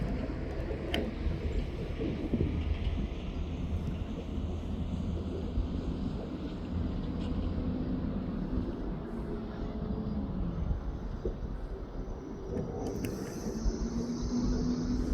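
A jet airliner climbs away after departure from East Midlands Airport, a steady broadband roar that holds loud and constant throughout, with a faint drifting whine riding over it and no voices.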